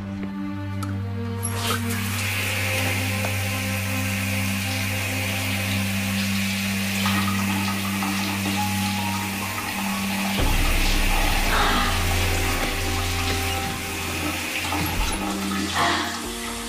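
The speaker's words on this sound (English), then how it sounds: "I'm gonna go take a shower." A shower runs in a steady, loud rush of water with a low hum beneath it, its tone shifting partway through as the flow changes; no one speaks.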